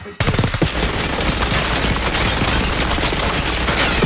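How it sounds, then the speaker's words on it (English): Sustained rapid minigun fire in the Call of Duty Black Ops 6 video game, a loud continuous roaring burst that starts abruptly and runs without pause through the whole stretch, dense and close. "Stay low until that minigun stops spinning."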